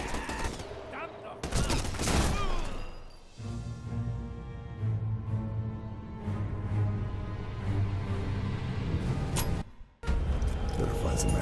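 Gunfire in the Sniper Elite 4 video game rattles in loud, dense bursts with a sharp break near the end, while a voice talks over it.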